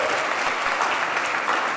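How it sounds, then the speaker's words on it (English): Loud, dense applause from an audience, steady clapping throughout with no break. "Let's give her a round of applause."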